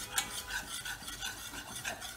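A whisk stirs flour into melted butter for a béchamel sauce with quiet, rhythmic scraping strokes that repeat about every third of a second, close up and alone.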